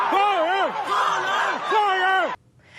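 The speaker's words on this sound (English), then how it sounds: "The crowd was heard chanting, "Release us, release us."" Crowd at an expo in Guangzhou chanting a repeated two-beat phrase in unison, three loud rhythmic cycles of massed voices, then cut off abruptly.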